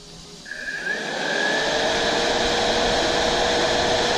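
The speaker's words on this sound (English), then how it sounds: "So I hooked up the fan here to my battery pack" An electric radiator cooling fan powered from a battery pack spins up with a rising whine, then holds as a loud, steady, close rushing whir with no talking.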